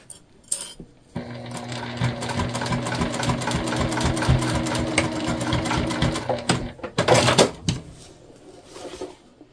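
A sewing machine stitches binding onto a tote bag made from dish drying mats in a rapid, steady run of about five seconds, followed by a few close clicks and clunks.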